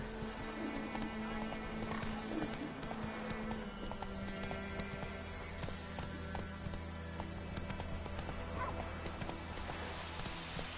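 A horse gallops in The Witcher 3 video game, its hooves pounding in a fast, steady rhythm over a continuous low background hum, with a brief whinny-like sound and no talking.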